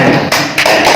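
A gavel knock at a provincial council (DPRD) meeting as members approve a decision: a few short, sharp taps, close and fairly loud against room noise.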